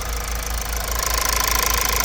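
A 2.2 Skyactiv diesel engine in a Mazda CX-5 with a blocked DPF runs at idle with a steady, loud knocking clatter and a low rumble, close up and with no talking.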